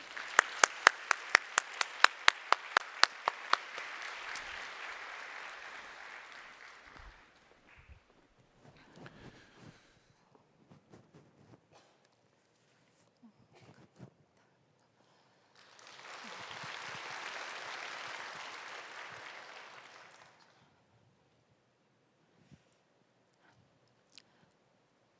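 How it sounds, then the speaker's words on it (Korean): A church congregation claps during a Sunday worship service, a brisk burst of sharp, loud claps at the start that thins out, then a second dense wave of applause swells in the middle before fading to scattered claps. "우리 봉소진 성도님 나오실 때 우리 박수로 맞이해 주시길 바랍니다."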